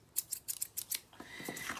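Scissors snipping paper, cutting out a drawn violin shape for a synthetic cubism art piece: a quick run of crisp close snips, then a softer sliding cut at the end, with no talk.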